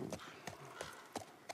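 In the video game The Last of Us, a horse's hooves gallop in sharp, evenly spaced clip-clop beats at a fast running pace, fairly faint against a soft background.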